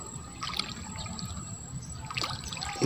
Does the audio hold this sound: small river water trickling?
yes